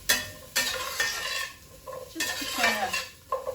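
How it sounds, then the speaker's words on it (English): Chunks of pumpkin being stirred and sautéed in a pan, with repeated scraping strokes of a utensil against the pan over a light sizzle, close up; a voice speaks briefly. "So I'll stir this a little bit"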